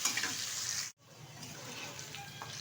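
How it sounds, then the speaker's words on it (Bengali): Washed potato pieces fry in hot oil for cabbage curry, giving a steady crackling sizzle that drops out for a moment, then resumes with faint stirring and light clinks; no one speaks. "টুকরো করে রাখা আলু ভালো করে ধুয়ে পরিষ্কার করে নিয়েছি, এবার ঢেলে ভেজে নেবো ভালোভাবে।"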